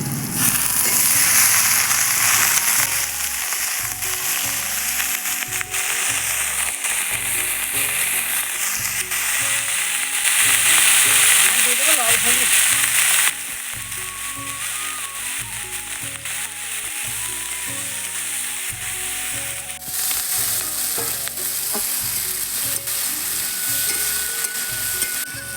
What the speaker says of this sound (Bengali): পেঁয়াজ কলিটা আমার ভাজা হয়ে গেছে